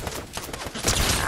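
Hip fire from a gun in the video game Fortnite, a dense run of rapid sharp shots layered with game effects, loud and close throughout with no talk over it.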